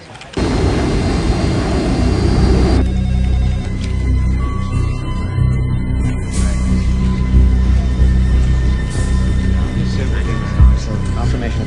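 A jet airliner climbing toward high altitude in a thriller film, heard as a steady, loud engine roar and rumble filling the scene, with radio voices speaking over it.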